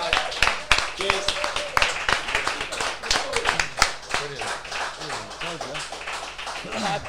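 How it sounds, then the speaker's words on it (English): A small audience at a speaking event claps steadily for several seconds, uneven hand claps close by, with people talking over the applause. "Give Josh a round of Thank you applause."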